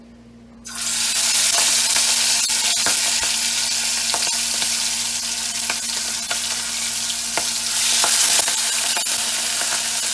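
Chicken livers dropped into hot oil in a pot for a Jamaican dinner, setting off a loud, continuous close sizzle and crackle that starts suddenly and keeps going with no talk.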